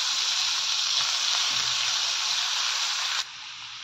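Cut cabbage tumbles into hot oil with chili powder and is stirred around the pan, a loud, steady sizzle and hiss running unbroken for several seconds before dropping sharply quieter near the end.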